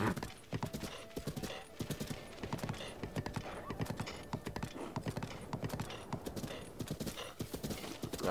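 Horse hooves clip-clopping at a steady canter in The Legend of Zelda: Breath of the Wild on Nintendo Switch, a rapid regular rhythm of crisp thuds, fairly quiet and alone.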